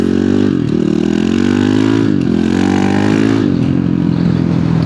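A supermoto motorcycle revs hard and pulls away close by, its engine buzzing loudly and climbing in pitch through several gear shifts, each marked by a quick dip before the note rises again.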